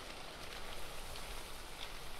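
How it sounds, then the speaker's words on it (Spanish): Steady rain in the video game ARK falling over a swamp, a soft, even hiss of drops that holds constant and fairly faint throughout, with no voices. "Y encima lloviendo, o sea que ya ni te cuento"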